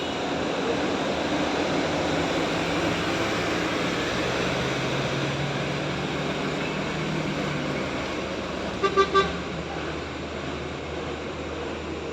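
An NPM bus, a Jakarta–Bogor–Bandung coach, rumbles past on the steep Sitinjau Lauik climb. It makes a steady, broad engine and road roar, with a brief horn-like toot near the end.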